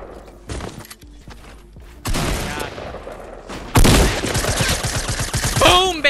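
A pump shotgun fires in Fortnite, with two loud, abrupt blasts that set off dense bursts of noise. Quieter clicks and mechanical handling sounds come before them.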